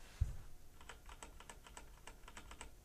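Rapid clacky keystrokes on a Razer BlackWidow 2014 Stealth mechanical gaming keyboard with 45 gram actuation switches, heard close and alone in a quick, even burst of typing.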